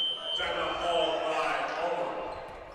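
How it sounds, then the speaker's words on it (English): A fire alarm tone rings steadily through a college men's basketball gym between Kalamazoo and Alma, with a high, continuous pitch under crowd murmur and a commentator talking over it. "the fire alarm is back"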